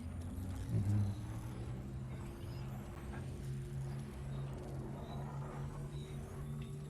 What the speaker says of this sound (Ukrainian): До речі, чутно машину тільки коли ти поряд